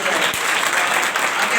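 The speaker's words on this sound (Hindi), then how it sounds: "जोरदार एक बार फिर से प्रभु के दास के लिए ताली बजाएं" An audience at a church youth meeting claps loudly for the pastor, a brief dense burst of applause heard up close.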